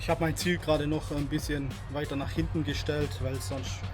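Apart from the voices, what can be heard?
None of the usual background noises is heard.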